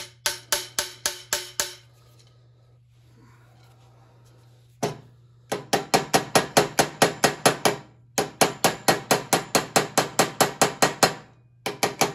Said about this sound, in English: let's give it a little tap with a hammer